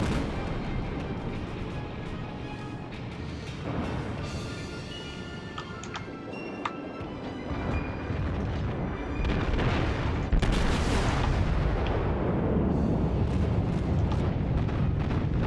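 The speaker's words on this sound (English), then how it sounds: "Let's see if we can't turn around and nail him with a nice armor-piercing broadside" Armor-piercing broadside salvos from a warship in the World of Warships video game, heard as heavy booming naval gunfire with rumbling blasts that layer into a loud, continuous battle din.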